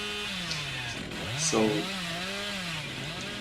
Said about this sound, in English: that chainsaw run at the end of the game just to get a little bit more points